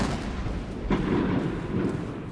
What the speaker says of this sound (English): With the sound of cannons firing across Tiananmen Square